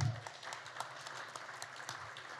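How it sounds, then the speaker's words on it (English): An audience at a Las Vegas resort event breaks into a steady round of applause, a dense and fairly faint patter of many hands, with little talk over it. "Give yourselves a round of applause for that."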